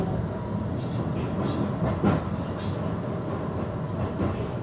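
A Blackpool tram rumbles steadily along its track, with a loud, continuous rolling drone and faint rhythmic clicks from the rails, heard up close from inside the car.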